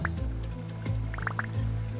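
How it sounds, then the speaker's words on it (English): Water drips in a cave in the video game Vintage Story: several small plinks and drops sound close over a low steady background hum. "I was hearing some water earlier. And I guess this is a source."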